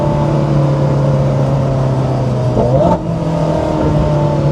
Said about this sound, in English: Downshifts are very quick.